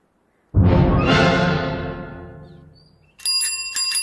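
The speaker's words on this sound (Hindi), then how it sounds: "पियून के साइकिल की घंटी।" A peon's bicycle bell rings out loud and close in a long, fading ring, followed by a second bright metallic ding near the end.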